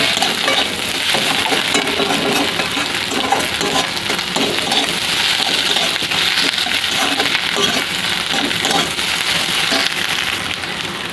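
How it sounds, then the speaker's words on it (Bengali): Egg and potato fry in oil in a pan, giving a loud, steady, close sizzle and crackle that runs unbroken throughout with no talking. "তো দেখুন সুন্দর ভাজা হয়ে গেছে ডিমটা"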